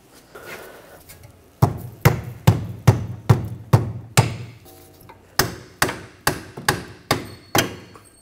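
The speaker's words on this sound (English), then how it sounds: "try to give it a tap with a hammer" A hammer strikes the rear shock mount of a 2009-2013 BMW 328i in two sharp, evenly spaced series of metallic blows, about a dozen hits in all, loud and close with a brief pause between runs.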